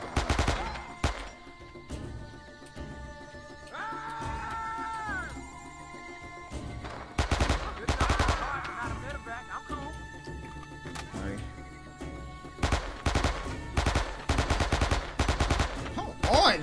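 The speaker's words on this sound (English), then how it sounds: "Alright, you got him, Reese, so just shoot." Gunfire in the World War II shooter Men of Valor, during a battle at the docks: repeated sharp bursts of shots scattered through the stretch amid game music and effects, loud in places, with some talk mixed in.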